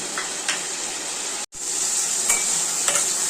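Whole spices frying in a pan for a vegetarian paneer masala give a steady, close hiss of sizzling oil, with a spoon stirring and scraping now and then and a brief cut in the middle.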